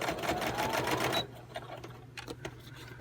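A sewing machine runs a quick burst of rapid stitching on an envelope craft, then stops, leaving a low hum and a few light taps.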